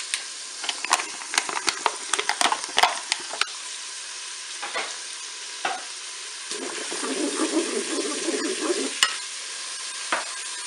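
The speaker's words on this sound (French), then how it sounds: "Je vais mettre les lardons." Onion pieces and lardons sizzle in butter inside a Cookeo multicooker, with bursts of stirring and clinking utensils near the start, then a steady frying hiss that swells toward the end, close and with no talking.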